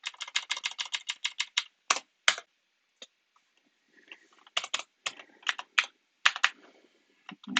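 Close, crisp typing on a computer keyboard: quick runs of key clicks with short pauses between bursts, no voices.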